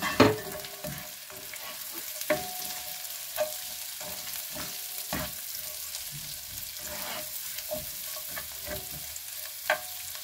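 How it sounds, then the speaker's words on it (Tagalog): Onions and carrots frying in a pan, a steady close sizzle broken by repeated scrapes and knocks of a utensil stirring them. "Hayaan natin siyang maluto ng konti yung ating sibuyas"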